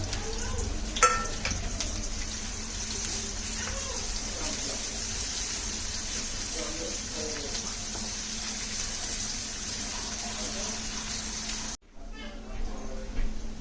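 Onions fry in oil with a pinch of asafoetida for bhindi do pyaza, a continuous close sizzle with stirring clatter that cuts out abruptly near the end, with a voice speaking over it.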